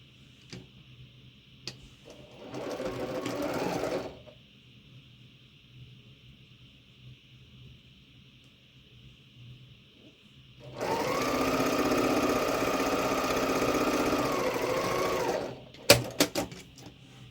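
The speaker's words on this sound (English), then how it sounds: "so now we're going to sew these 2 together" A sewing machine joins quilt pieces in two close whirring runs, a short one and then a longer one. A faint steady tone hangs in the background, and a few sharp clicks follow at the end.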